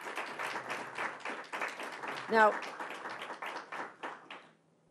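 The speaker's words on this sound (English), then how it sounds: "That deserves a round of applause." Audience applause at a New York governor's announcement, scattered hand clapping from the crowd with a brief voice partway through, fading out near the end.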